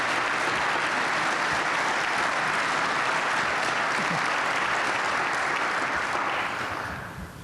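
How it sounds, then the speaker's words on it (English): Sustained applause from a large audience at an evening awards reception for a rental housing association, dense and even for several seconds before fading out at the end. "Please join me in a round of applause for our elevated sponsors."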